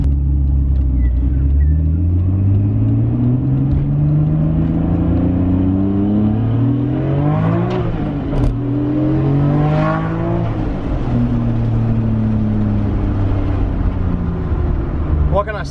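Nissan Skyline R34 M-Spec Nür engine revving hard through the gears, rising and falling in steady sweeps, loud and close from inside the car with no talking over it.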